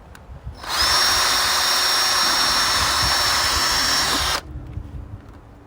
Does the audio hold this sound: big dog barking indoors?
no